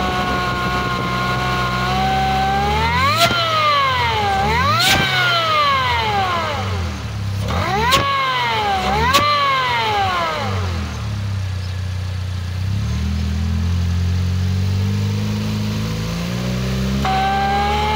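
A Mercedes Kompressor engine revs up and down several times in sharp rising and falling sweeps, then settles back to a steady idle.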